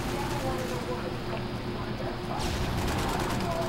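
Rapid gunfire from Call of Duty: Modern Warfare 2 in a Domination match, a dense stream of shots and impacts running steadily through the moment under a commentator's voice.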